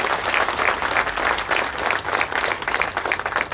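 Audience at a Mahatma Phule Samata award ceremony in Pune claps steadily in honour of Mahatma Phule on his death anniversary, a dense, even wash of applause with no voices over it.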